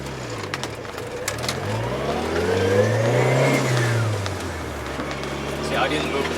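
A car passes at a roundabout, its engine rising and falling as it sweeps close by, heard from inside a manual-transmission car with birds cooing in the background.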